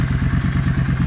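A Yamaha V Star 650 motorcycle engine idles steadily up close, a low rhythmic thumping pulse with mechanical clatter, heard alone without talking.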